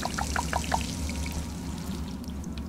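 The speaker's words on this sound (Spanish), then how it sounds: "Uy, grifo. Vamos a beber un poquito." A tap in the video game Dishonored runs water in a steady trickling stream over a low background hum, with a few brief drips or splashes near the start.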